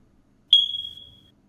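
A single sharp high-pitched smoke alarm beep from a video game rings out clearly, decaying over about a second against near silence.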